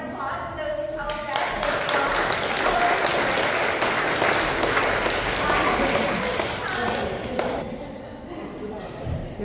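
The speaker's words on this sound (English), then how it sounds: "I think I have applause for those who" Audience applause in a crowd on a trip to Washington, DC, a thick wash of clapping building and then tapering off over several seconds, with voices mixed through it.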